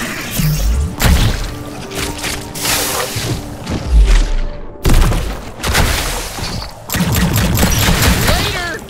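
Gunfire from shooting Greebles in the video game High on Life, a dense run of loud, rapid blasts and impacts filling the whole stretch, with a short pause near the middle before the shots resume.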